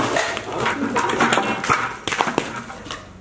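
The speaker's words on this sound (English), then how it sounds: "it's that bird" A bird, probably a pigeon, coos and flutters inside an empty, echoing warehouse, with sharp knocks and taps mixed in and brief voices in the background.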